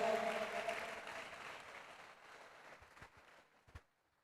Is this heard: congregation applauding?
yes